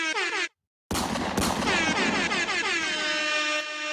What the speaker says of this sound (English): You mad at an air horn.